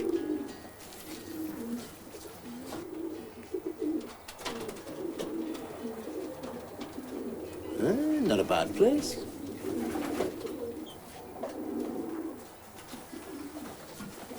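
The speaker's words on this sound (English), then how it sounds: "Pigeons come first" Racing pigeons coo in a Newcastle loft, soft throaty burbling calls rising and falling close by, with people talking over and between them.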